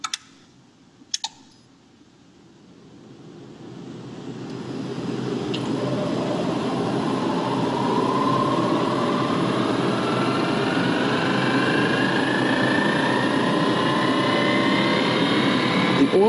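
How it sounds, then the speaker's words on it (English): A Trane variable speed furnace's indoor blower ramps up during oil return mode, its airflow whoosh swelling steadily over several seconds into a loud, sustained roar with a rising tonal whine, after a few faint clicks at the start. "the indoor blower will increase to match compressor speed during the 15-minute accumulated runtime"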